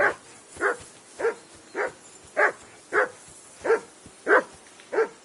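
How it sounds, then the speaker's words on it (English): A dog in the video game Kingdom Come: Deliverance II barks repeatedly at a steady pace, about nine sharp barks with short gaps, fairly close and clear with no talking. "Get that mutt of yours to stop barking, will you?"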